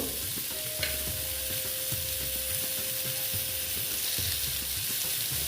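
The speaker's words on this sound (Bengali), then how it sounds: "দেখো একটু ভালো মতো ভেজে নেব" Pointed gourd frying in a pan, a soft steady sizzle under a repeated rhythmic scraping of a spatula stirring the pieces, close and quiet with no talking.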